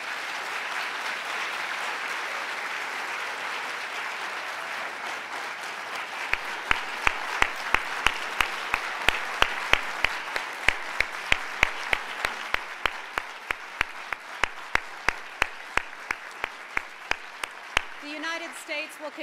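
Final round of applause for a panel of women leaders at a forum, a sustained crowd clapping that continues for the whole stretch, with sharp individual claps standing out near the mic in the later part.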